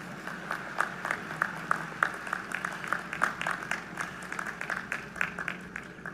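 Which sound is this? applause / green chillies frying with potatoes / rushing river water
applause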